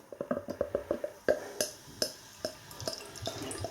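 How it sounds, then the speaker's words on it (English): Beer poured from a bottle into a glass, with a quick run of gurgling glugs at the start, then looser splashes and fizz trailing off, close and fairly quiet. "Okay, beer pouring out."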